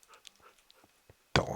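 Tamed dogs in Minecraft give a few faint, soft whimpers and small yelps, then a sudden louder burst of dog sound near the end.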